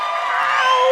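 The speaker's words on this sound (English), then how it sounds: "let's give him a round of applause" Cheering and whooping from a studio audience welcoming a guest on stage, a steady crowd roar that swells toward the end.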